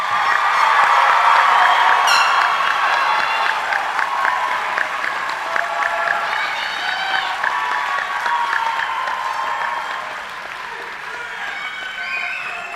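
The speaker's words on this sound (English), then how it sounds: "Please let's give them a round of applause." Applause and scattered cheers from a crowd honouring graduating seniors at a high school graduation ceremony, loud and sustained for several seconds with a few whoops rising above the clapping before it thins out.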